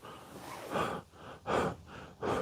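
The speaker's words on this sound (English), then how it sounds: "just in case you think I'm vaping, that's just me breathing" A man breathes heavily right against the microphone in a small workshop with a heater running, with three or four loud rhythmic inhale and exhale surges and no talk.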